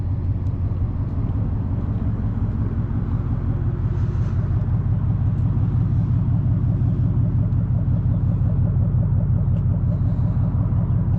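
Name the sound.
2024 Ford Mustang GT V8 engine rumbling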